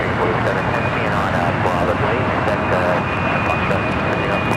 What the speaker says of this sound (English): we do have a JetBlue arriving, coming in from Fort Lauderdale, Florida, flight 101 and A321